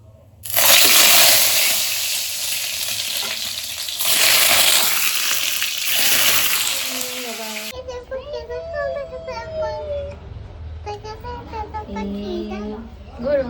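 Egg curry cooking in a kadai, a bright steady sizzle for several seconds that stops abruptly, followed by children's voices and chatter nearby.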